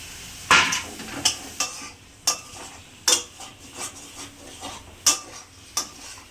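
A spoon repeatedly scrapes and knocks against a pan as potato and cauliflower curry cooks, with sharp irregular clacks roughly every half second over a low sizzling background, close and fairly loud.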